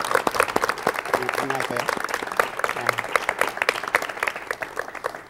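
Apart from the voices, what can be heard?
studio audience applause welcoming a designer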